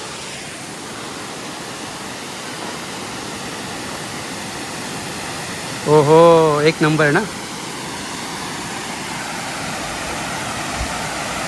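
Water spills over a check dam built across a stream, a steady broadband rush that runs unbroken throughout, with a brief burst of people talking midway.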